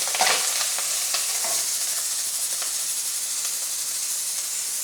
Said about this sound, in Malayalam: ഉള്ളിയും ജീരകം, പിന്നെ വെളുത്തുള്ളി, തേങ്ങാപ്പീര, കരിയാപ്പില ഇതും കൂടി ഇട്ട് നമ്മൾ നന്നായിട്ട് വറക്കും